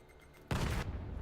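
A grenade detonates in the VAIL VR shooter during a competitive match: a sudden loud blast that holds as a broad roar for about a third of a second, then settles into a lingering rumble.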